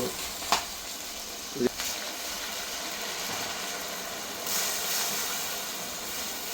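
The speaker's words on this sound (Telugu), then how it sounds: "ఇది కూడా చక్కగా కొంచెం ఆయిల్లో బాగా ఫ్రై అవ్వాలా" Green chillies fry in oil with a steady, moderately loud sizzle that runs throughout, broken by a few brief clinks of a utensil against the pan.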